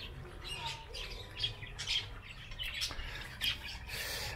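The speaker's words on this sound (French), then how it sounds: "Mais il y a une petite volière ici avec des oiseaux bleus." Blue birds in a small aviary squawking in short harsh bursts, several calls spaced across a few seconds over a steady background hiss, moderately close.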